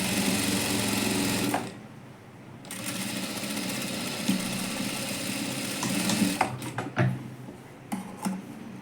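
A sewing machine stitches a princess-cut blouse with cups, running steadily and fairly loudly for several seconds before stopping, followed by small handling clicks and knocks.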